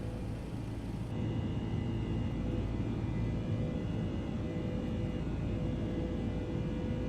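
Steady, droning roar of MD-11 airliner engines in a flight simulator game, a constant low rumble with a faint tonal whine, running alone without talk.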